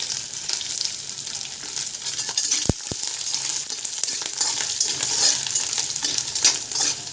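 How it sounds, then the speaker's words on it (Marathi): Grated coconut and garlic dry-roasting in a pan for a Marathi black chickpea curry, giving a steady close hiss and crackle with a couple of sharp knocks as the mixture is stirred. "मस्त लालसर होईपर्यंत खोबरं भाजून घ्यायचंय"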